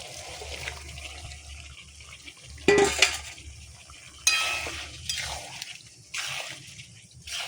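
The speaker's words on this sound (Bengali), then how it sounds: "মশলা কষানো হয়ে গেছে, এবারে চিকেনটা দিয়ে দেবো।" Chicken pieces going into a pan of spices cooked down for a chicken curry, with bursts of wet sizzling and stirring clatter over a low steady hum, nearby and moderately loud, no talking.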